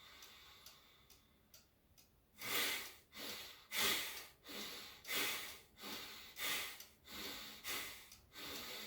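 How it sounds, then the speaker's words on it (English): A person doing a slow breathing exercise takes repeated audible breaths through the nose, about eight soft, evenly spaced puffs close to the microphone, each rising and fading in a steady rhythm. "Normal inhale."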